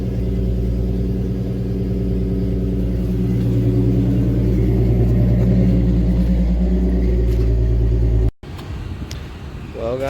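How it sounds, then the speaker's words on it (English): A car engine, an Acura, runs at elevated revs with a strong, steady low rumble that gradually settles as the RPMs drop, then cuts off abruptly near the end, leaving faint background noise. "Waiting for the RPMs to drop a little bit."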